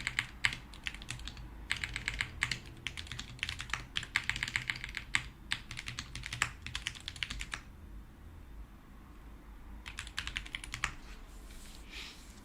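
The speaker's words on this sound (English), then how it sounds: "Typing with some delay here." Typing on a Framework laptop keyboard, steady bursts of close, crisp key clicks with a pause near the end before a final short flurry, over a low hum.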